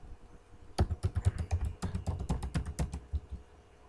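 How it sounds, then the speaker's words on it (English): Rapid, uneven keystrokes on a computer keyboard, a quick burst of clicking after a short quiet start, close and clear. "See, I'm typing"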